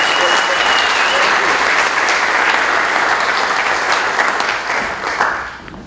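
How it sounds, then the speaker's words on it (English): A film festival opening-night audience breaks into a long, loud round of applause, dense and sustained clapping that tapers off toward the end, without any talk over it. "A round of applause, please, for everybody."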